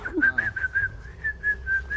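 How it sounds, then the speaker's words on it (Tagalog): A person whistles a steady high tune in short repeated phrases, fairly close and clear, with faint low background noise beneath. "Sige, pasipol-sipol ka."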